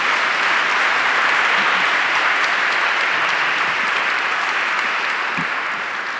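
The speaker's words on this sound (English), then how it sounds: "I would like to invite you to give them a big applause" Steady, dense audience applause for three panelists at the European Degree Forum, a loud, even wash of many hands clapping at once that holds for the whole stretch before easing slightly at the end.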